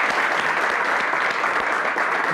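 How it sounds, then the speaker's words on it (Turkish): Dense studio audience applause on a Turkish TV show, a steady wash of many hands clapping close and loud, unbroken for the whole stretch with no talk over it. "Hemen alkış istiyorum Rezdan Kiraz için."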